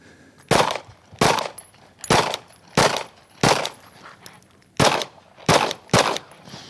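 Gunfire rings out during a run-and-gun shooting drill while the shooter walks toward the target, with about nine loud, sharp shots spaced roughly evenly, each followed by a brief tail.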